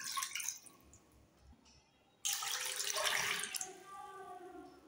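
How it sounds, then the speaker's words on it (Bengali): About two cups of water poured into a pan on a stove, a sudden close gush of splashing water that runs steadily for over a second before fading into quieter trickling; no talking. "মধ্যে 2 কাপ পানি দিয়ে দেব।"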